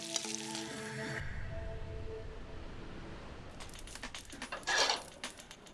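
Hot oil is poured over polenta in a pan, setting off a bright crackling sizzle that fades into a quieter hiss before flaring up again in a short, loud burst.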